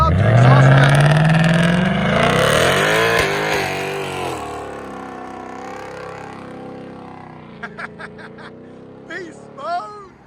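A loud Ford Mustang engine revs hard and roars off, the rising drone fading over several seconds, followed by a few short distant bursts.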